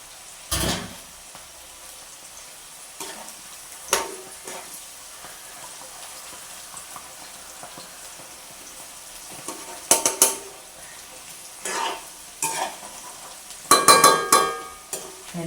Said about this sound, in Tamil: அப்படியே நல்ல வடிவாக பொரியட்டும்